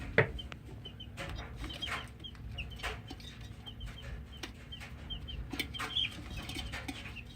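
A chicken clucking in soft, scattered calls over faint background rustle, quiet and a little distant.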